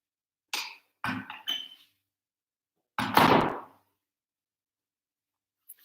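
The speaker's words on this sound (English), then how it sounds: "Let me just shut this door one sec." An indoor door is pushed shut with a single dull, close thud, preceded by a few short scuffing knocks as it is handled, then quiet.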